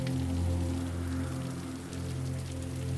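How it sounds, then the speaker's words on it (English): Rain from a tropical storm taps on a window and roof, a full, steady hiss of drops with a low hum beneath, continuous and close throughout. "As you listen to each tap of rain on the window and roof"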